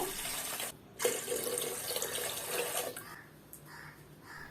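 Water poured into a cooking pot for black rice kali, a steady splashing rush that cuts off briefly, then resumes and fades to soft trickles.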